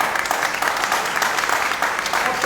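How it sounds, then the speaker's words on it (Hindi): Congregation applauding during an Indian church sermon: brisk, continuous clapping from a sizable crowd, loud and even throughout the short burst. "उसके लिए ताली बजाओ भाई।"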